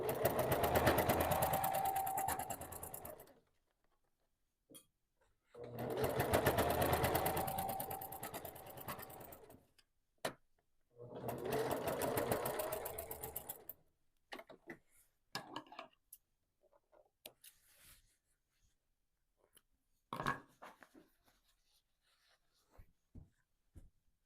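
A sewing machine sews a quarter-inch quilt seam on a scrappy quilt-as-you-go block in three steady bursts of rapid stitching a few seconds each, close and clear, with soft fabric-handling clicks and rustles between runs.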